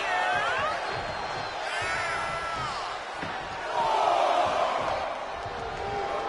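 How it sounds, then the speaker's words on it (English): A capacity crowd in a fighting video game roars and cheers continuously at a ring event, a loud dense wash of voices with whoops and swells, rising to a louder burst partway through. "This capacity crowd is sending him love, and he's sending it right back."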